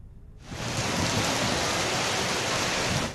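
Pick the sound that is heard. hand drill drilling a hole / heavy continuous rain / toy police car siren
heavy continuous rain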